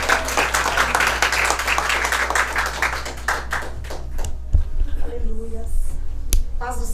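A church congregation claps during a worship service, a dense patter of hands mixed with voices and room hum, thinning out after the first few seconds as a speaker begins to talk over it.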